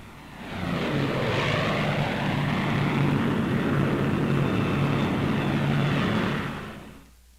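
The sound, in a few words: Lockheed Lightning propeller aircraft flying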